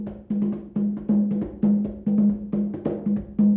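A second West African pentoma drum pattern, evenly spaced hand strikes with a booming low ring, near and clear with no talk.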